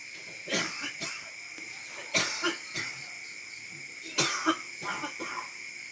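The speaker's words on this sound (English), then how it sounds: "the coughing in the background you can hear occasionally" Several coughs in the background at intervals, some in short pairs, over a steady electronic hum and faint high whine.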